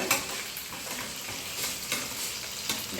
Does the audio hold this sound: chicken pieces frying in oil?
yes